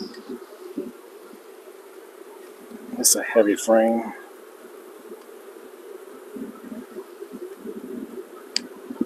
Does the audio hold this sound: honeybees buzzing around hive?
yes